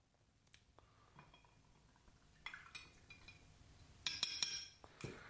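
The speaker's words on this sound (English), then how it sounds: "we're going to add 2 ounces of our monkey shoulder Scotch whiskey to our glass" Monkey Shoulder Scotch whisky being handled and poured into a glass: faint soft clinks and glassy taps, then a few brighter chinks near the end in a quiet room.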